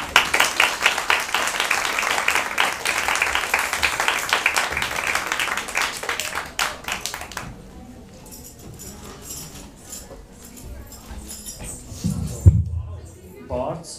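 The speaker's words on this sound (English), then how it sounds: "Please, again, a big applause for Sowgandhika, Krishnan and her team" Audience applause after a dance performance at a Krishna Janmashtami temple program, a dense patter of clapping for several seconds under a voice, then fading to quiet murmurs with a brief low thump near the end.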